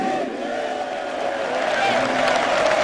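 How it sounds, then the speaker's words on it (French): A large stadium crowd welcoming Tatou Seba of the Leopards in Kinshasa, with sustained cheering, whoops and scattered clapping forming a loud, continuous roar of voices. "Applaudissements pour Tatou Seba, s'il vous plaît."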